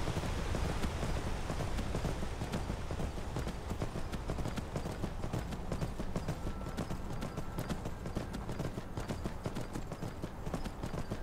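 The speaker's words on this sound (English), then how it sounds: "you get the sound of the storm and the rain" Steady, dense rain falls during a storm in Skyrim, a constant hiss without pause, with the rhythmic clip-clop of horse hooves running through it.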